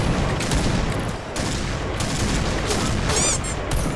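An SVU rifle firing in the shooter game Point Blank, with rapid, loud gunshots packed together in a steady stream of bursts through the whole short stretch.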